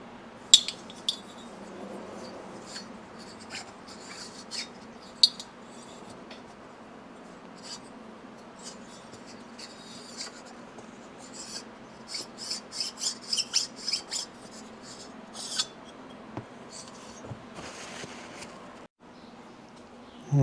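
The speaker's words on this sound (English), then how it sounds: "set it on the surface plate, and we'll flatten the top here just to make sure it's in good shape" A Suzuki TS185 motorcycle cylinder rasps as it is rubbed back and forth on a surface plate to flatten its top, producing steady gritty scraping strokes that quicken into a run of short rhythmic passes.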